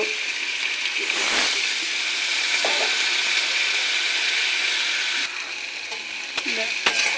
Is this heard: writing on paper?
no